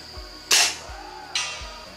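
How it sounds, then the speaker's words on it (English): A Benjamin Trail NP XL air rifle fires at an outdoor range, giving two sharp, loud reports a little under a second apart, each a crisp crack with a brief fading tail, with no talk. "without shouldering up on the butt of the rifle, I squeeze the trigger"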